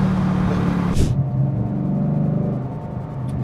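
A Ford Mustang V8 cruising on the road gives a low, steady rumble with a brief sharper burst early on. The sound stays moderately loud and close throughout, with occasional faint talk.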